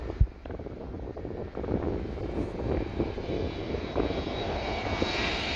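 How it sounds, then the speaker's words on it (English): An Airbus A321 comes in very low on approach at Skiathos, its jet engines a sustained broad roar mixed with wind buffeting on the microphone, moderately loud and steady after a brief knock at the start. "This Airbus A321 comes in unusually low at Skyathos"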